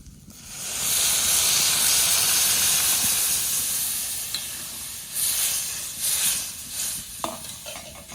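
Dal sizzles and hisses in a hot pan in a village kitchen, then water is poured in, raising a loud burst of steam that settles into a softer, uneven hiss with a few clinks of the pan.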